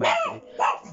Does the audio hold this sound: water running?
no